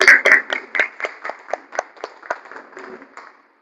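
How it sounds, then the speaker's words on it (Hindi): A small group claps to welcome a guest at a seminar in Jharkhand, starting strong and then thinning into slower, separate claps that fade out before stopping. "दिल्ली से चलकर आए हुए हैं श्रीमान वरुण सर को ताली के साथ स्वागत किया जाए।"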